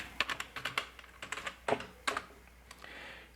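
Fingers type on a computer keyboard in quick, irregular bursts of soft, close clicks, then pause briefly before a few more keystrokes, with no talking.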